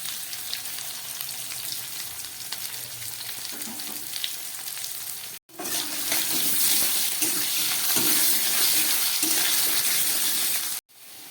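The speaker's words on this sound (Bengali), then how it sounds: "ভালো করে এবার আমি আলু পটলটাকে ভেজে নেব।" Potatoes and pointed gourd frying in a pan, a steady dense sizzle with a brief gap and a slightly louder stretch after, close and continuous.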